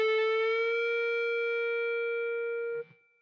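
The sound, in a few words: guitar note half-step string bend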